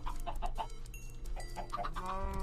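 Chickens clucking and squawking in Minecraft, a busy flock of repeated short calls close by with steady background game sound and no talk.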